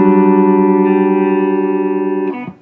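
An electric guitar runs through a Pod HD500 on its Dr. Z preamp model, with no cabinet simulation, into a separate cabinet and power amp. It plays one gritty, distorted chord that rings out with sustain for over two seconds, then fades as the strings are muted.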